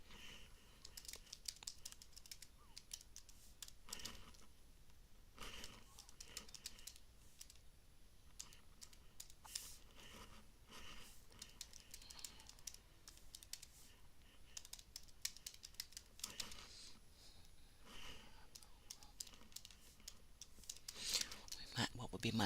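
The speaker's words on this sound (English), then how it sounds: "Sorry, I got to get quiet while I'm typing" Computer keyboard typing runs steadily throughout, a quiet patter of key clicks in irregular bursts with brief pauses, fairly close and soft, while a person speaks now and then.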